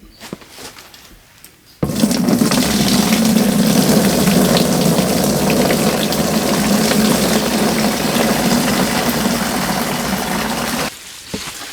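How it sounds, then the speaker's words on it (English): Used oak bark from deer-skin tanning is rinsed with a steady rush of water, a loud continuous gush that starts abruptly after a quiet moment and stops near the end. "I'm just going to go ahead and rinse this used bark with water before I strain it back in"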